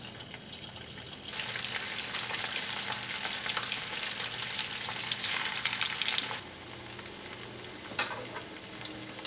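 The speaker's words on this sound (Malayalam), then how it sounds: "ഇത് നമുക്ക് എണ്ണയിലിട്ടിട്ട് വറുത്തെടുക്കാം." Vegetable Manchurian balls deep-fry in hot oil, a loud, steady sizzle and crackle that eases off toward the end, with no voices.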